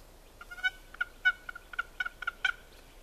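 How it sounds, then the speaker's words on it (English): Wild turkeys gobbling in pitch-black darkness before dawn, a rapid series of rattling gobbles repeating for several seconds, moderately distant and heard alone. "pitch black dark, turkeys gobble, turkeys gobble, turkeys gobble, turkeys gobble"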